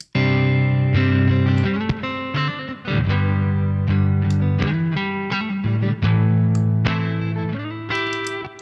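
Electric guitar played through a JSA Blues Maker overdrive pedal on its FET setting, a smoothed, slightly lower-gain drive; loud, close chords and sustained notes with riffing changes, no talking.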